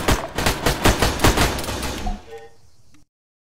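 Rapid bursts of rifle fire at enemy soldiers in the military shooter Arma 3, about eight sharp shots in a steady rhythm that thin out and stop, then a brief quieter clatter before silence.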